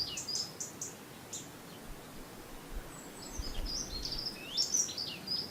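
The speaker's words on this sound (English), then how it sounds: "I can hear the birds tweeting." Birds tweet outdoors in a quiet natural setting, with scattered high chirps early on and a busier cluster of calls later, all faint against a soft background hiss.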